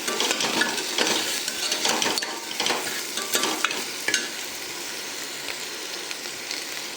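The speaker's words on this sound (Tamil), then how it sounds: "கல் உப்பு சேர்த்துட்டு நல்லா வதக்கி விட்டுடலாம்" Okra sautéing with rock salt and masala in a pan for tamarind curry, a steady sizzle broken by the scrape and clink of a spoon stirring, close and loud with no talk.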